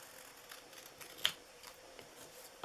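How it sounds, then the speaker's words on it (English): Narrow paper pieces cut by hand with scissors, a few soft snips and one sharper crisp cut, close and quiet with no talking. "I'm going to cut his eyebrows out by hand"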